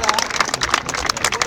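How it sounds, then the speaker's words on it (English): An audience claps for contortionists at a live show, a dense burst of close, rapid applause with crowd noise, brief and continuous. "Ladies and gentlemen, give him a round of applause"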